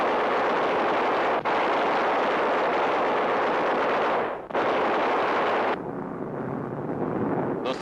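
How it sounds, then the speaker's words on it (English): Bombs bursting on a Japanese freighter during a low-level bomber attack in 1943 wartime footage: a continuous loud, dense roar of blasts and rumble with a couple of abrupt breaks, no voices. "The second time over, bombs are on their mark, and the freighter is crippled by the explosions."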